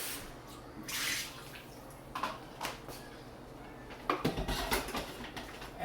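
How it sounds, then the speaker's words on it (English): Water from a kitchen sink tap splashes in short bursts as a coffee pot is rinsed out, with clinks and sloshing between the gushes. "Rinse out my pot really quick."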